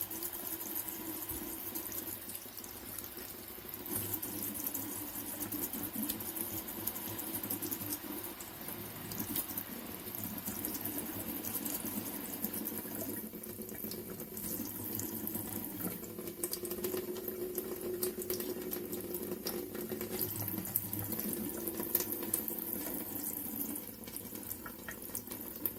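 Water runs steadily from the tap of a small instant water heater, a soft, continuous splashing flow heard close up with slight changes as the stream is adjusted, no voices.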